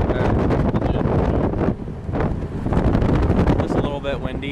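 Wind buffets the microphone in gusts during a ride in a 1957 Chevy Bel Air, a loud roaring rush that dips briefly midway, with people talking underneath.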